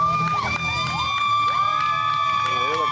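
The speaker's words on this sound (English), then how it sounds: "Hear the crowd over here, they're loving it." At a local wrestling show, the crowd cheers loudly and continuously as a wrestler enters the ring, with whoops and rising shouts cutting through a dense, steady roar.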